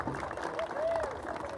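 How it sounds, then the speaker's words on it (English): Crowd applause at a Brooks Bandits junior hockey Centennial Cup celebration, clapping for the coach as a steady dense wash of hands and cheering through the whole moment, with a voice on the PA over it. "So round of applause for him,"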